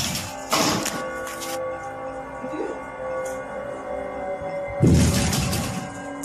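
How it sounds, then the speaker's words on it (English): Phantom knocking in a village, pounding hard enough to rattle glass: two heavy bursts of thudding impacts with rattling, separated by quieter muffled rumbling, close and loud. "Phantom knocking at odd hours day and night."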